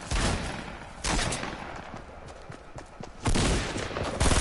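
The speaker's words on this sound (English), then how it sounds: "killing people with the hand cannon" Hand cannon fire in a video game comes in sharp bursts, the heaviest near the start, middle and end, separated by quieter stretches of game ambience.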